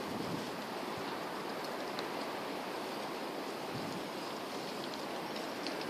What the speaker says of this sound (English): Wait, can you hear the wind?